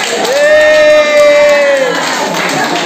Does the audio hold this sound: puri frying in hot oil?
no